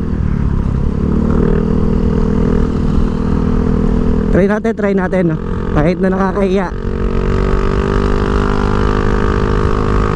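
A Mio i 125 motorcycle fitted with an Apido pipe V3 exhaust idles loudly and close, with a steady rumble throughout, while someone speaks briefly over the engine midway.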